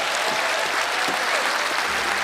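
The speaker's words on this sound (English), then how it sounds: "Please give Teller a round of applause for herself." Studio audience applause at a magic show, a dense even wash of clapping that holds steady throughout without voices.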